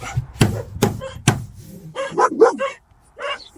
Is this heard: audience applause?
no